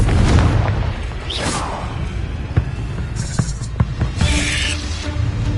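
A Confringo spell goes off in a Harry Potter video game with a booming burst, followed by a series of smaller pops and crackles, loud and close, with a spell incantation spoken around it.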